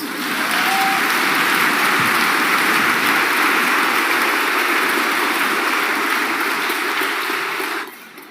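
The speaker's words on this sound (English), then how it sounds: "Let's give him a big round of applause." Sustained applause from a funeral congregation honoring a reggae singer, a dense, steady wash of many hands clapping at full loudness that tapers off near the end.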